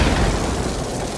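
An enemy blowing up in the video game Warframe: a loud, dense burst of explosive noise that fills the whole moment without a clear break.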